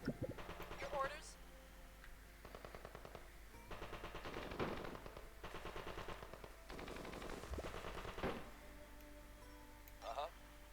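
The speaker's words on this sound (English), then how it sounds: "Everybody's gonna run over there and start shooting." Video game gunfire crackles in several rapid machine-gun bursts separated by short pauses, moderately loud and steady across the stretch, with a few brief higher tonal blips.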